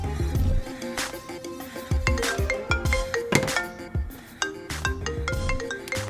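Telephone ringing with a melodic ringtone, playing a repeating musical pattern of bright tones, moderately loud and close, no talking over it.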